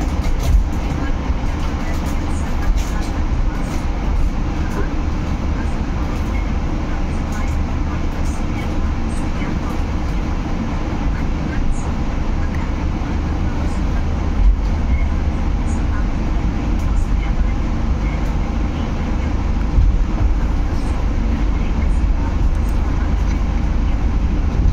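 Steady low rumble of a passenger train at a station platform, the Bima Executive service bound for Surabaya, with continuous engine and carriage noise throughout and a voice talking over it.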